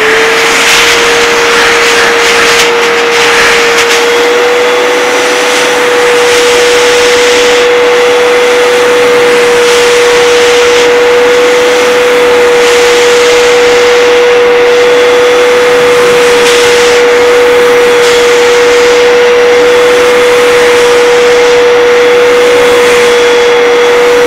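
A Bissell SpotClean 3698E portable spot cleaner's nozzle sucks cleaning solution out of a ketchup stain. Its loud, steady motor whine and rushing suction run close and unbroken throughout, with no voices.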